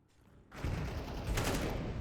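Gunfire from a professional Counter-Strike match on the Nuke map: after a quiet half second, dense continuous shooting breaks out close and loud, with sharper bursts near the end.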